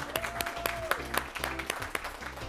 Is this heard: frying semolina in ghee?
no